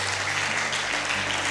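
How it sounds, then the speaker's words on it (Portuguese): A short burst of congregation applause at a church service, dense and steady clapping from many people filling a large room. "Você pode aplaudir a Jesus nesta noite."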